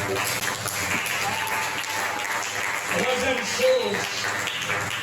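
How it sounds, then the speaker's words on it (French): A church congregation applauding during a sermon, a broad steady wash of many hands clapping throughout, with voices mixed in. "Est-ce qu'on peut acclamer la parole du Seigneur?"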